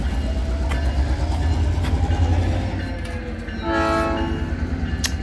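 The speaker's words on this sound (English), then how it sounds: "it's kind of dark in here and there's a train going by." A train rolls past close by with a steady low rumble and rattle, then sounds a loud tonal horn blast near the end; a dim industrial neighborhood setting, with no talking.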